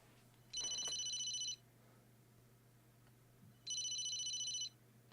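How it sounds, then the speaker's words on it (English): A phone rings in the video game Emio - The Smiling Man, two loud electronic ringing bursts about three seconds apart over a faint steady hum, with no voices. "you got a phone now ringing"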